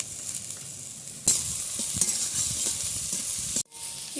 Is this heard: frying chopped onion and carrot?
yes